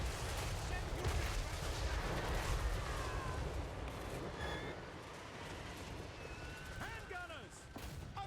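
Gunfire and booming artillery roll across a Total War Warhammer III battlefield, a dense continuous barrage with voices shouting over it.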